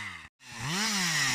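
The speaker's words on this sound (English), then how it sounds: "with chainsaws at the ready, to cut back the dense gorse from this protected site" Chainsaws cut back dense gorse on a protected heritage site, a loud, close engine whine that breaks off briefly, then revs up again with a rising and falling pitch.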